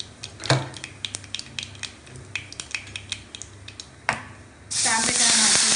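Tomatoes hit hot tempering oil seasoned with mustard seeds, asafoetida and turmeric for a potato, brinjal and tomato curry, breaking into a loud, steady sizzle near the end after clinks of a metal spoon against the pan.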